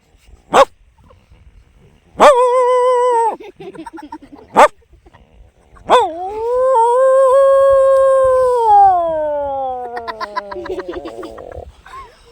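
A comedian imitates a dog with his voice, giving a few short sharp barks followed by a long drawn-out howl that slowly falls in pitch, loud and close with no other sound.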